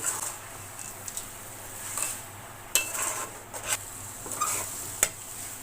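A spoon scrapes and stirs sugar through raw mango pickle in a pan, soft rhythmic scraping and clinks against metal over a faint sizzle, close and fairly quiet.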